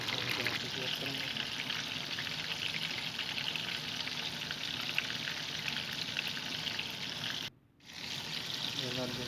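Fish fries in hot oil for restaurant-style fish with a dense, steady sizzle and crackle, close and continuous, briefly cutting out near the end before resuming.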